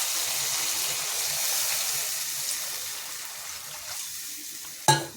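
Water poured into a hot frying pan sets off a close, broad hiss and bubbling that slowly eases, ending with a sharp clack.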